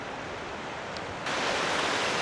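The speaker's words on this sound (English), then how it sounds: "So I'm here at the next stop, Thunder Creek Falls." Thunder Creek Falls, a waterfall on the Haast Pass in New Zealand, gives off a dense, steady roar of falling water that grows suddenly louder partway through.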